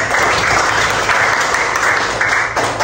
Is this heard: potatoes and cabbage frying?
no